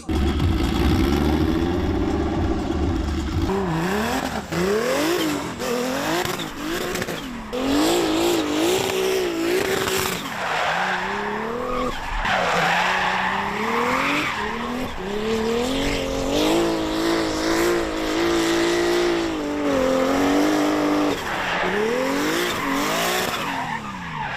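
A drift car tears around a lap, its engine revving hard and rising and falling in pitch while the tires squeal and skid almost continuously, loud and close throughout.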